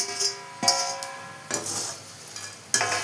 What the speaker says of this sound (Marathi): आता हे मिक्स करून घेऊयात आपण